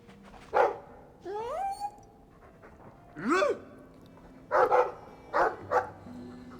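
Dog in the video game Dragon Age 2, several separate short barks and whiny yips spaced over the clip, moderately loud and close, with no talk.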